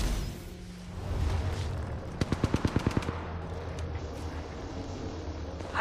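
A rapid burst of automatic gunfire from a weapon in the mobile battle royale game Apex Legends Mobile, about eight sharp evenly spaced shots over a background of game ambience, with no talk.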